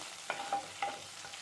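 Green chilies sizzling in a pan with cumin for sabudana khichdi, stirred with a few quick scraping strokes over a faint steady fry, no talking.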